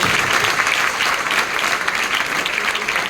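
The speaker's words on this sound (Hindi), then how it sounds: "तो एक बार जोरदार ताली होनी चाहिए।" Audience applause from a crowd at a director's speech event, a steady dense clapping that fills the space throughout without letting up.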